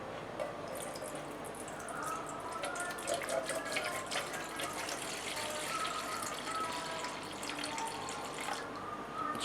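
Water is poured into an electric cooking pot under repair, making a steady, fairly quiet splashing and trickling that runs unbroken throughout with no speech.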